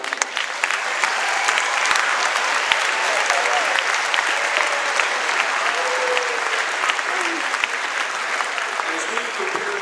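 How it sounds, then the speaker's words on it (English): Sustained applause from an audience at a high school academic assembly honoring scholars, a dense, even wash of clapping filling the hall at steady loudness throughout. "please join me in giving these scholars one final round of applause"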